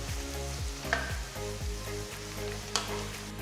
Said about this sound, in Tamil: பாருங்க வெங்காயத்தை இந்த அளவுக்கு வதக்கணும்